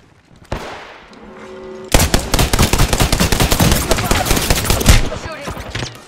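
Apex Legends gunfire: after a quieter lead-in, a dense, loud stretch of rapid automatic shots crackles for about three seconds before tapering off.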